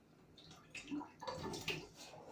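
Liquid from a second tin of tomatoes poured off into a sink, giving a faint splashing trickle with a few brighter drips over about two seconds, close by in a kitchen.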